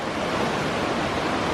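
Small waterfalls along a pretty creek on Mt. Hood give a dense, steady rushing hiss, loud and continuous with no voices.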